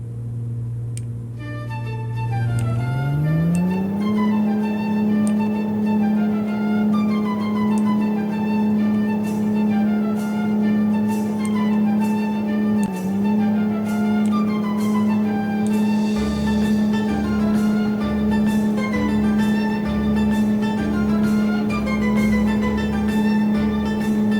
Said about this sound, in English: let's just quickly listen to the Cessna